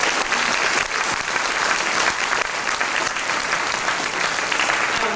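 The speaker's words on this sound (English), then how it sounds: "let's give one more big round of applause" A seated audience gives a big, sustained round of applause at an afternoon ceremony honoring twenty elders, dense steady clapping filling the room for the whole stretch with no pauses.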